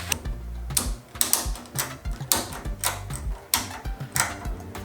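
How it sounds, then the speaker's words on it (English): A hand ratchet clicks in short, irregular bursts while a part is tightened into place during a twin-turbo Hemi Fox-body car build, loud and close in a workshop with no talking. "We're just gonna try and ratchet this in place."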